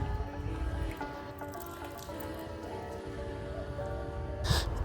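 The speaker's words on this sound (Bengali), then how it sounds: "এবার একটু গাছের গোড়ায় ভালো করে জল দিয়ে দিলাম।" Water poured at the base of a potted plant, a steady close trickle and splashing into soil for several seconds, with a faint clink near the end.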